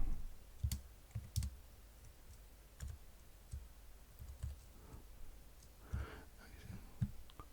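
Keys on a computer keyboard click in scattered, uneven taps during live coding in Sonic Pi, faint and close, with soft pauses between bursts of typing.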